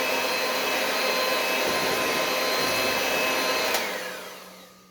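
An electric mixer on high speed whips cream cheese for a cheesecake with a loud, steady whirring drone, then winds down and fades near the end.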